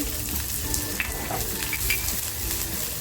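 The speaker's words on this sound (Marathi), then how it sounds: "थोडंसं तेल टाकते आहे तेल छान तापलंय कांदा टाकते" Chopped onion fries in a little hot oil for a dhaba-style potato dish, giving a continuous close sizzle with a few faint clicks and taps throughout.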